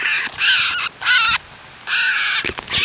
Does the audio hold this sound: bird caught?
yes